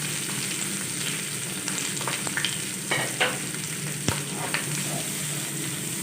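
Chopped capsicum and carrot sizzle steadily in a hot pan for Indian-style white sauce pasta, a continuous close frying hiss broken by a few brief stirring scrapes and clicks.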